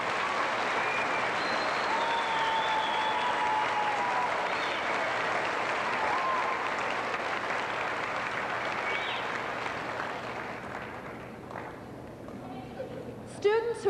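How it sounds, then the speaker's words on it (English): Sustained audience applause fills a high school graduation ceremony, honoring presidential award winners as they stand; steady dense clapping throughout, thinning slightly near the end with a few voices. "let's give all of you a round of applause"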